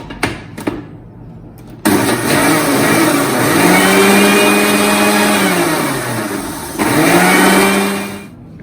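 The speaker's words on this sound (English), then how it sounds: "just blitz it in the mixer" A kitchen mixer grinder coarsely blitzes raw mango pieces with a cup of water, a loud steady motor whir that starts after a few clicks, dips and changes pitch as it pulses, then stops abruptly.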